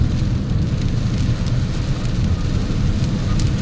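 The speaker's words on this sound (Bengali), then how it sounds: "বিশাল জোরে বৃষ্টি হচ্ছে, যার জন্য গাড়ির স্পিড একটু কমে গেছে আমাদের" Heavy rain roars steadily with a deep, rumbling low end, drumming on a moving car on a road trip, continuous for several seconds with no talk.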